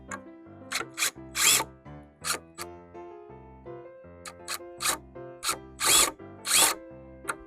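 A power drill drives a screw in short, close bursts, its motor whining up and down in pitch with pauses between runs, the bit sometimes spinning without biting.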